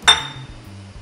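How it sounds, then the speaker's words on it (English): A metal utensil strikes the side of a pot of rice pudding with one sharp, close clink, after which a faint low hum carries on briefly. No speech. "Give it a stir."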